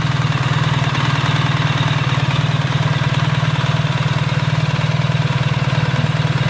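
A new motorcycle's engine idles close by, a steady loud low-pitched throb that carries on without a break and with no talk over it.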